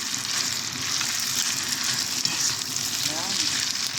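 Spaghetti carbonara with beef bacon being mixed in a hot pan: an even, dense frying sizzle running continuously up close, with faint stirring movement underneath.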